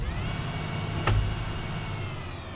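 A MAN 18.310 Caetano bus engine in the OMSI 2 simulator, held at 2000 RPM, gives a steady, even drone with a faint whine on top and a brief thump partway through.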